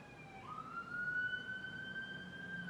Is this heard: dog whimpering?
no